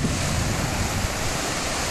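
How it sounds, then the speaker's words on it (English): Broad Creek's flowing water makes a steady, loud rushing wash, close by and continuous with no break, broad like surf mixed with wind on the microphone, and no one speaks. "here we have Broad Creek. You can hear."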